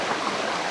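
Steady rushing of a moving creek, a broad continuous water wash heard close and alone, with no voices.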